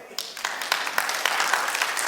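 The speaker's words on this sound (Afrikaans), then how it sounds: "Gee my hande klap, ja." Congregation clapping hands during a church service, a steady rhythmic patter of many hands filling the room and building slightly in loudness, with no voices standing out above it.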